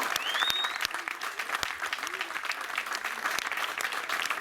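A roadside crowd at the Tour des Landes cycling race applauds a stage winner, with sustained clapping close by, some scattered whistles and a voice or two calling out over it.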